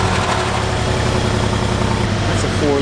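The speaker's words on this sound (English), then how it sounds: "That's a 4-liter V8 bi-turbo." Idling 4-liter bi-turbo V8 of a 2017 Mercedes-Benz G550, a steady low rumble heard close and at moderate level, with a brief voice near the end.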